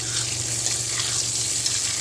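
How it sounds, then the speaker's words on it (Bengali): Sliced potatoes frying in a pan give a steady, close sizzle for the whole stretch, a dense crackle with a low hum under it and no voices. "আলুগুলো ভাজা হচ্ছে"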